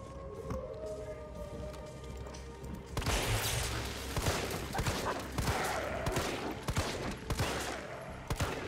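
Gunfire at rabid zombie dogs in the Resident Evil 3 Remake video game: quiet game ambience, then from about three seconds a dense run of sharp shots and impacts, close and loud, with chaotic action noise.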